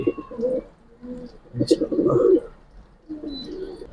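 Giribaz pigeons, silver and coloured birds kept for sale, coo close by in several soft, throaty, rolling phrases separated by short pauses.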